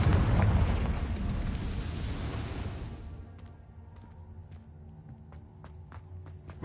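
A Confringo blasting spell in Hogwarts Legacy goes off as one loud, rumbling explosion that fades over about three seconds, followed by quieter ambient sounds and faint footsteps.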